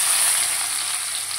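Chopped tomato and onion hit hot oil with a bay leaf in a Bengali paneer posto dish, giving a steady, loud, close hiss of frying that holds evenly throughout with no talking.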